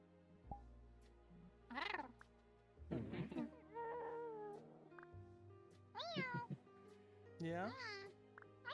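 A cat meows several times, short rising and falling calls that come close and clear over a quiet room with a low hum, and a few people talk softly between the calls.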